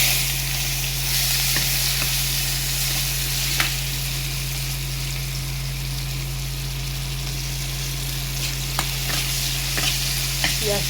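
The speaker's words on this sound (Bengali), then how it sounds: "পেঁয়াজটা একটু ভেজে নেব।" Chopped onions sizzle in hot oil with cumin seeds, a steady close frying hiss with occasional stirring clicks, no voices.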